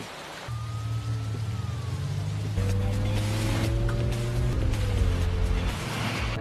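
Steady rain falls outside a car on a cold, wet day, a continuous broadband hiss with a low engine-like hum and faint tonal sounds layered over it, no talking.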